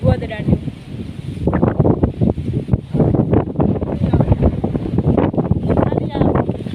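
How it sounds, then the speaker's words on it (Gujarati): Strong outdoor wind blows up dust and paper, roaring and buffeting the microphone in uneven gusts, while people talk over it throughout. "ખાલી આ પવન ધૂળ જ ઉઠશે કેટલું પણ છે. કાગળ ઉડે છે એના."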